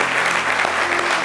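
A brief, full burst of audience applause for the singer during a midday show, steady clapping from many hands with no voices on top.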